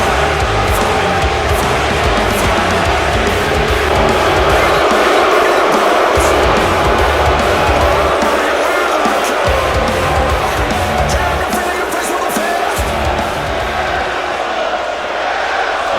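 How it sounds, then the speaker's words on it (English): A large arena crowd at a video game wrestling show, a loud, steady roar of voices, whoops and cheers filling the whole stretch with no letup. "This crowd here not happy to see Macy Gray in Indianapolis."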